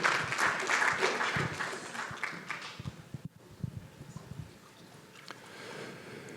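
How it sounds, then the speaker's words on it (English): An audience at a conference summit applauds the panelists, with dense clapping fading out after a few seconds into scattered claps and room murmur. "And another round of applause, please, for our panelists."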